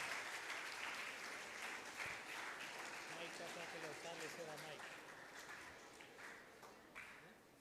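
Applause from an audience welcoming two presenters at a live National Science Day event, a dense wash of clapping that runs steadily throughout and slowly fades toward the end, with faint voices underneath.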